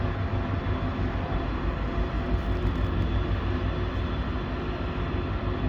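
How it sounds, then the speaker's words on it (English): A train draws near, with a steady broad rumble and hiss holding throughout, loud and continuous, by the Mississippi River. "unless there's a train coming"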